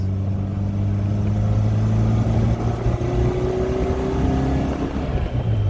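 A 1974 Alfa Romeo engine on a test drive with the convertible top down, droning steadily and climbing gradually in pitch as it accelerates, loud and close with no talk.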